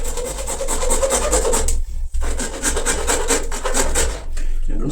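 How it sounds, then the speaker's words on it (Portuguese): A hand saw rasps back and forth through a pool heating bypass pipe, a steady run of close, loud strokes with one brief pause midway. "E vou começar aqui a serrar os pontos na altura que eu preciso."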